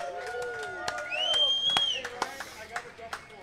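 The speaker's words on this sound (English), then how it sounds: "let's just get a quick round of applause for our hosts" An audience at the Funk Fest '24 beer gathering gives the festival hosts a quick round of applause, with scattered claps, a rising whistle and whoops, fairly close, while people talk nearby.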